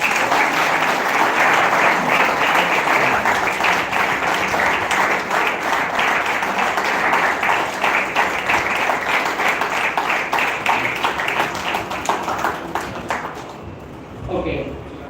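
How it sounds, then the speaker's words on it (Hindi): Collective applause from an audience at an award ceremony, a dense and loud roar of clapping that holds steady for about thirteen seconds before quickly dying away. "कलेक्टिव तालियां।"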